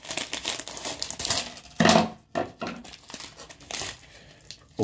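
Plastic packaging of a Lego Minecraft set crinkles and rustles close up as it is cut open with scissors, with sharp snips and loud crumpling bursts mixed with small rattling pieces.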